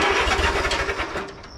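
An Allis-Chalmers B tractor engine turns over and catches, a loud, close, uneven chugging rumble with rapid pulsing firing that settles toward a rough idle.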